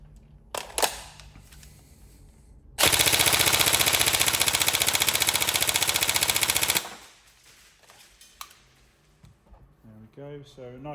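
A Tokyo Marui 416 Delta airsoft rifle, a next-generation recoil model on a 2600 battery, fires one loud sustained full-auto burst of about four seconds, a fast even rattle, with quieter handling clicks before and after.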